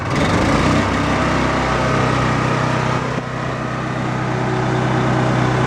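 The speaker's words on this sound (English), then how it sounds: "we always want to run the engine at full throttle" A generator engine runs steadily at full throttle on a shredder system, a loud, continuous, close engine drone with only a brief dip midway and no voices.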